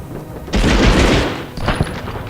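Rapid pistol fire from the Medal of Honor video game, with a loud close burst of quick shots and a booming tail, followed by a second shorter volley.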